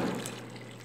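A brief close pour of about three litres of water into a container of homemade fabric softener, a splashy burst that settles into a softer steady trickle.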